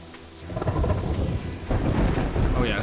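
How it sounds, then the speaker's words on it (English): Rain and thunder in the game Terraria: steady rainfall under deep rolling thunder that swells midway, loud and continuous with no talk. "It's raining"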